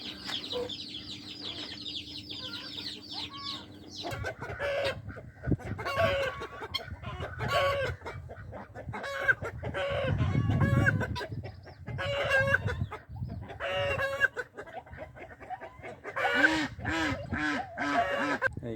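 Hens cluck repeatedly at close range, with a rooster crowing near the end, in a busy, uneven barnyard chorus.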